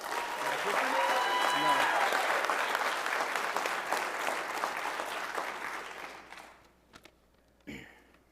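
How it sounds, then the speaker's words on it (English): Sustained audience applause at a spring ROTC commissioning ceremony for a newly commissioned second lieutenant, dense and even for several seconds before fading out, followed by a few footsteps and small knocks. "please join me in another round of applause for Second Lieutenant Austin Jeffrey Maxwell"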